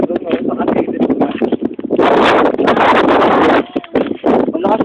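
Loud, blustery wind buffets the microphone in heavy gusts, with voices talking intermittently underneath.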